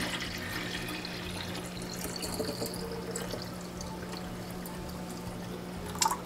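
Filtered water poured into a plant sprayer bottle, giving a soft continuous trickle and gurgle close by with a steady low hum underneath and a brief clunk at the end.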